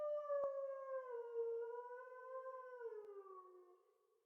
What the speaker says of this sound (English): The howl of an animal. It sounds too high to be a dog.